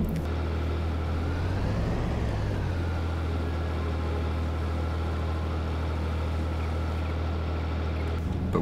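A tractor in a survival roleplay video game drives and idles with a steady low engine drone, briefly rising and falling in pitch early on, constant and close with no talk.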